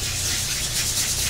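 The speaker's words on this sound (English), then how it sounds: "going to do a little sanding while he's talking" Sandpaper rubs rhythmically across the wooden surface of a surfboard-shaped urn, a close, steady hissing scrape with a low rumble beneath it and no talking.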